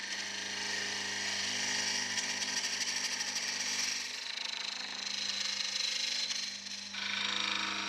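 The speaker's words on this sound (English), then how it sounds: "First of all, we have to turn the Cocobolo down to a cylinder." Cocobolo hardwood spinning on a wood lathe as it is turned down to a cylinder, a steady close whirring drone with a constant motor hum and a brief dip near the end, no talk.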